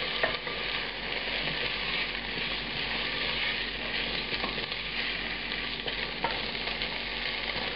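White beans fry over high heat in a pan, a steady loud sizzle with scattered small pops and crackles throughout, no voices.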